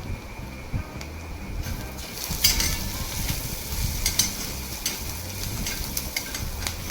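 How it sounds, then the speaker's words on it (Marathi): Chopped onion and finely cut coriander sauté in a kadhai for a mung dal and onion dish, giving a soft, steady sizzle with scraping stirs and a few louder clinks, close and without talk. "बारीक चिरलेली कोथिंबीर आपल्याला या चिरलेल्या कांद्यामध्ये टाकलेली आहे"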